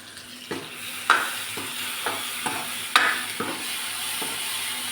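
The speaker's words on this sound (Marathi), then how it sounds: "कांद्याला आपण 2 मिनिटे छान परतून घेणार आहोत." Chopped onions sautéing in a pan for a spicy potato curry, a steady soft sizzle broken by several clear scraping stirs of a spatula at uneven intervals, close and alone.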